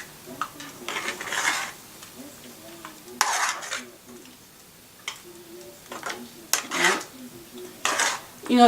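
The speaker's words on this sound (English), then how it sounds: "I'm gonna drop some in there so it could cook a little bit longer, and then I'm gonna stir it" Oatmeal gets stirred in a pot with a utensil, producing intermittent scraping and clinking bursts against the metal, close and separated by quiet gaps.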